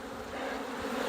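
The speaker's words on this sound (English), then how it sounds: "There's some bees in there, but not a whole lot." Honey bees buzz inside a hive just after a swarm has left, a close, steady droning hum with no voices over it.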